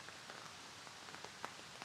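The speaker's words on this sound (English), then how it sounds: "but it's hitting the tarp now, the rain" Rain pattering onto a tarp in autumn woodland, a dense soft patter with scattered sharper drops, heard close and alone.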